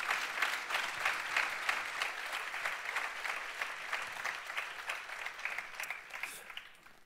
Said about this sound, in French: On peut les applaudir, vraiment.